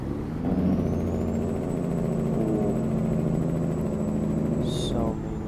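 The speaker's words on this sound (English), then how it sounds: "Let's hear the good old engine brake with the window down." A truck's engine brake in American Truck Simulator drones with the window down, a steady low mechanical rumble holding throughout, with a brief high tone near the end.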